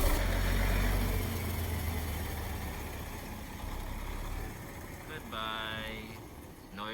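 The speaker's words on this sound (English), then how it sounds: "Goodbye, noisy truck." A heavy truck idles nearby on a street in Cuba, a loud, steady low rumble that dominates at first, then slowly fades as it pulls away, with faint background noise and a brief higher tone near the end.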